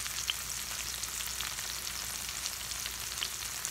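Peppers and onions fry in a pan on medium-high heat, a steady soft sizzle with faint crackling pops running evenly throughout, heard alone without any talk.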